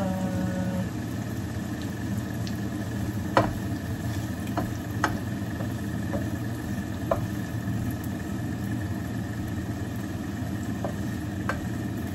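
Shrimp frying in a home kitchen pan, a steady broadband sizzle running throughout with a low hum beneath and a few sharp clicks or utensil taps scattered across, no talking.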